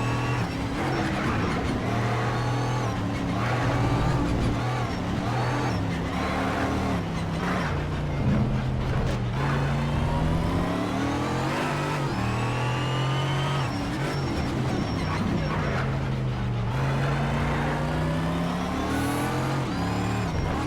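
Racing car engines roar and rev loudly in the Need for Speed: SHIFT racing game, pitches climbing and dropping through gear changes as several cars compete on an exotic mixed track, continuous and close with no talking.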